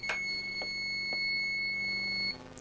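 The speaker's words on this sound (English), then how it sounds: "It made a big noise, beep, and all these settings, you see, it was 65, now it has changed." A W1411 W88 thermostat temperature controller emits a continuous high electronic beep on factory reset, steady and fairly loud for over two seconds before stopping, with faint clicks underneath.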